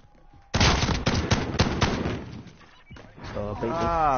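Shotgun fire in the Warzone battle royale, a loud run of heavy, punchy blasts in quick succession that breaks off, followed by a voice speaking over quieter game sound.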